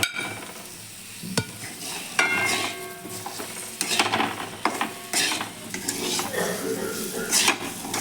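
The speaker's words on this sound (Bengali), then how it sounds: "এর মধ্যে আমি এবার আলুটা ভেজে রাখা আলুটা দিয়ে দেবো" Fried potatoes tipped into a pan for a vegetarian potato curry and stirred, with sizzling oil, clattering spoon scrapes and clinks against the pan in irregular bursts, close and fairly loud.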